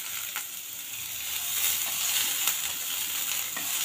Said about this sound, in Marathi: आता मी यात थोडासा कढीपत्ता घालते आणि ह्या तुरईच्या साली, ह्या सारी ह्या छान परतायच्या आहेत